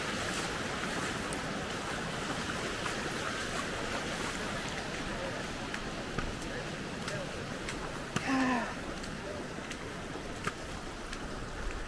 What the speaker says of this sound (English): This water is really running.